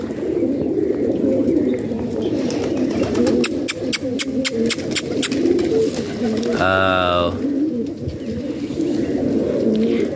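Pigeons in a flock, kept for Kabootar Bazi pigeon flying, are heard under steady loud outdoor ambience with a run of sharp rhythmic clicks and a brief harmonic call partway through, and a background voice joins at times.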